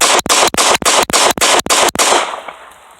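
A handgun held very limply in the weak hand fires about seven quick, evenly spaced shots, each a loud sharp crack, followed by a fading ring with no talk.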